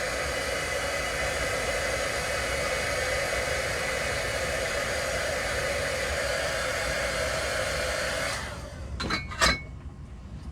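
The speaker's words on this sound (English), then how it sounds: "Now I'm going to heat set this just to be sure that it's dry" A heat tool drying watercolor ink blows a steady loud whooshing roar for about eight seconds, then cuts off, followed by a few light clicks and clinks.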